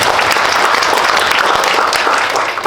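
Sustained audience applause at a Korean lecture on the semiconductor industry, a dense, steady clapping that fills the whole stretch, loud and unbroken.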